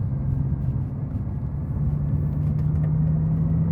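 Bugatti Veyron in Autobahn mode as the driver puts his foot down on a straight, a deep steady engine and road rumble heard from inside the car with a faint rising tone.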